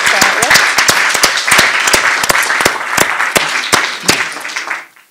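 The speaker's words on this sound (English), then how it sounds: "so we should do a round of applause." Applause after a provocative input at an education debate on social mobility: a loud, close round of individually distinct claps at a quick, uneven rhythm, continuing for several seconds before abruptly fading out.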